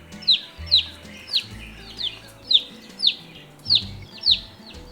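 Baby chicks being washed in warm soapy water peep loudly in a steady series of about nine sharp, evenly spaced cheeps, close up, over low running-water and handling noise.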